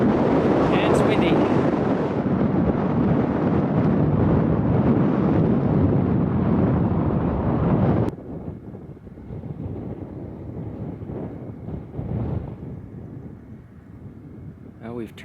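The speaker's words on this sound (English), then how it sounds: "And it's windy." Strong wind on a mountain trail buffets the microphone in a loud, roaring rush, then drops abruptly to a lighter gusting hiss for the rest.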